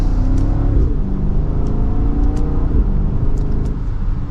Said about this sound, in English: we're up to speed, and you can hear that exhaust